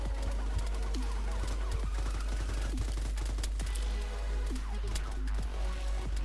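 Sustained covering gunfire in the Arma 3 tactical battlefield game, with dense automatic bursts and scattered single shots crackling continuously at steady loudness for the whole stretch, with no voices.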